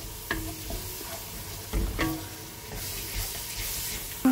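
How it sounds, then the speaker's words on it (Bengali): Spice masala with yogurt frying in a pan in a home kitchen, a constant close sizzle broken by several sharp spatula scrapes and clinks against the metal, no voices. "এটাকে মিক্সড করে আমি কষিয়ে নেবো আবার মশলাটা"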